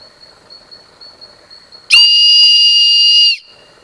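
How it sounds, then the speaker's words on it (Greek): A Bear Grylls survival-kit whistle gives one loud, shrill, steady blast of about a second and a half, sharply cut off, rising over quiet room noise. "Αυτή η σφυρίχτρα εδώ προέρχεται από το kit επιβίωσης του Bear Grylls και παράγει 100 δεσιμπέλ"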